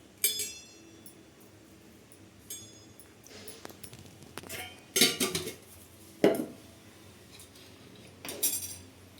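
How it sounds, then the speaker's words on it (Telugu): Sesame powder is spooned into a mixer jar, close by, in a scattered series of metallic clinks and scrapes, several sharper knocks standing out against a quiet background. "ఇప్పుడైతే కొంచెం నువ్వుల పొడి వేసుకోవాలి మిక్సీ జార్లో."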